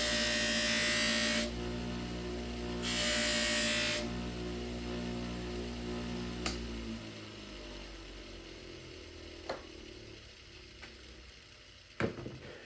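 A Benchmade Osborne Rift knife blade is worked against a motorized buffing wheel loaded with compound, giving a steady, close whirring buzz with two louder bursts early on, then tapering off with a few sharp ticks near the end.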